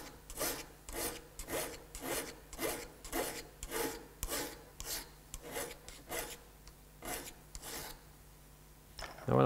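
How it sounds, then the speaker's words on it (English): Metal file rasping along a scissor blade to clear machine marks, steady back-and-forth strokes repeating about every second, close and dry, with no talking. "this file seems to be working fine. I'm trying to get all the marks out"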